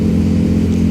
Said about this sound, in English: The bike feels so much louder now.